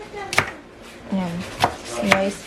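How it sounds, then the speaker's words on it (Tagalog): A knife slicing onion on a cutting board gives three sharp, separate knocks spaced about a second apart, close by, with a person talking between the cuts. "So, slice na natin yung sibuyas natin."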